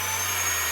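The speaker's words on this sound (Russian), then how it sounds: "Пылесос запускается с помощью нажатия вот этой кнопки." A Hoover FD22L cordless vacuum cleaner runs with a loud, steady motor whine and airy hiss, held constant through a brief moment.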